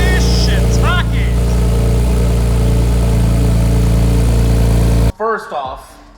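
A rebuilt Porsche 991.1 Turbo engine runs at a steady idle just after installation, a loud continuous drone with people talking over it, then cutting off sharply as the talk carries on alone.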